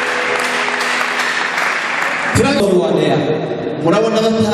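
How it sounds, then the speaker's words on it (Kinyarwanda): Audience clapping for a group of young people at a ceremony, a burst of close applause that breaks into steadier claps, with a person speaking over it. "Please clap for them."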